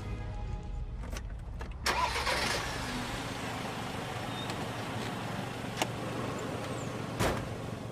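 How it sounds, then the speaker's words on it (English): A car engine cranks and starts on a cold morning, then settles into a steady low idle to warm up, with a few clicks and knocks over the running motor. "I leave the engine running while I scrape the ice off the windscreen"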